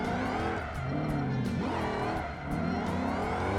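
A powerful car engine in the BeamNG racing video game accelerates hard, its loud, close tone sweeping up and dipping briefly between gear changes, continuous throughout with no talking.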